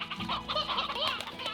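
Chickens cluck steadily in the video game Slime Rancher, a close, continuous flurry of overlapping clucks and short squawks over a faint ambient background.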